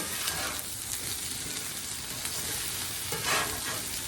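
Breakfast food sizzles on a hot barbecue plate outdoors while being tossed, a steady frying hiss broken by a few scraping stirs, close and moderately quiet, with no voices.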